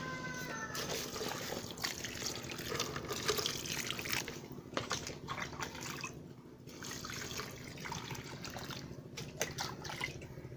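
Cow dung slurry is poured into an aquaponics biofilter, giving a close, steady splashing flow with scattered drips and splatters throughout.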